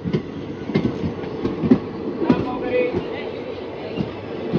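A train pulls away from Badami station, wheels clacking in a steady repeating rhythm over the rails, with a low rumble and faint squeal close by.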